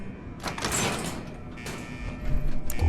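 A heavy blast door at a Sentinel site missile silo in the Fallout 4 video game slides open, a loud mechanical grinding and hiss that swells, eases, then rises again with a clanking thud at the end.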